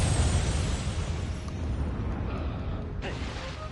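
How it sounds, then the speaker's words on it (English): In Nioh 2, a dweller fires cannons in a dense, rumbling barrage of booms and bursts under constant battle noise, with a sharper blast near the end. "How the fuck is a dweller smart enough to operate freaking cannons, I swear?"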